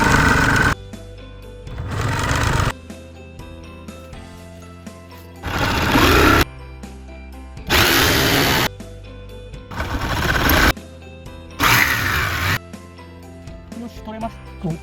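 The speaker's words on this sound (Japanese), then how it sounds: "問題はこの天板を外さずにカットしていけるかですよね" Power tool cutting through the top panel of an Indy 727 camper van while the panel stays in place, sounding in loud bursts of roughly a second, about six times, with quieter gaps between them.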